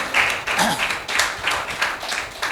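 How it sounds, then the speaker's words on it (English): Audience applause for school volunteers at a camp certificate event in Chennai, a brief burst of dense, irregular clapping filling the room at moderate level. "All the volunteers over here, a big round of applause."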